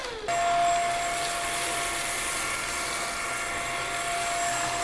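A cordless stick vacuum cleaner runs steadily on carpet, picking up rice, with a loud, continuous motor whine and high-pitched hiss that starts abruptly and holds at an even level throughout.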